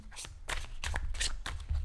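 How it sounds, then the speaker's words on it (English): A deck of cards is shuffled overhand in quick bursts, soft papery slaps and flutters close to the microphone, repeating four or five times in under two seconds. "I like to do a combination of overhand shuffling"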